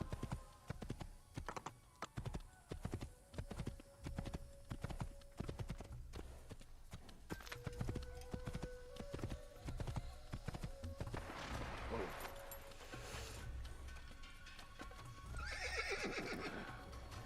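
Horse hooves clip-clop and a horse whinnies in the Assassin's Creed (2007) video game, sharp repeated hoofbeats at first, then a steadier trot with neighing calls later, mixed with game sounds.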